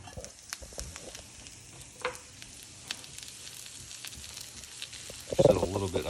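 Bacon, onion and garlic caramelize in a pan with a faint, steady sizzle and crackle, ending in a brief louder clatter of stirring.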